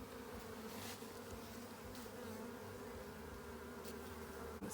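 Honeybees buzzing around an open hive during an apiary inspection in Ballachulish, a close, continuous droning hum at low volume with a few louder passes near the listener.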